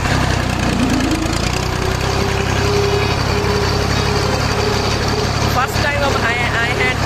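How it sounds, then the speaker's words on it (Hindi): A tractor engine drives along a busy main road, a steady rumbling drone that runs unbroken and loud throughout while someone talks over it. "फर्स्ट टाइम हम आए हैं ट्रैक्टर पे,"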